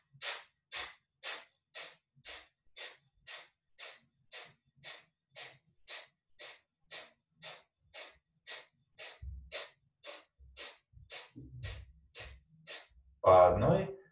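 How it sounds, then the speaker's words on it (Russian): Rhythmic breathing through both nostrils during a hatha yoga breathing exercise: about two dozen quick, evenly spaced breaths, close and clear, followed near the end by a brief louder sound that may be a voice. "Дышим двумя ноздрями."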